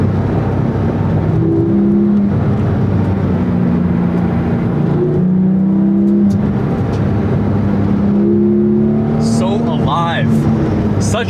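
Engine of a Porsche 911 997 GT3 heard from inside while driving, a loud steady drone with tones that rise and shift as it pulls, while a voice speaks over it.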